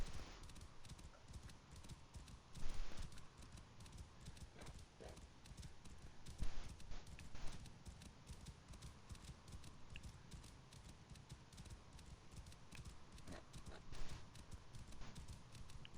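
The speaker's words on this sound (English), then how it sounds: "And traveling by horse is a lot faster." A horse trots in Assassin's Creed Origins, its hooves clip-clopping in a steady rhythm of moderate loudness, with louder hoofbeats every few seconds and no voices.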